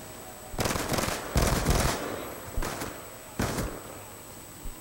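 Executioner handheld shotgun in a Demolition match on the Cargo map fires four loud, booming blasts, two close together then two spaced apart, each with a short decaying tail.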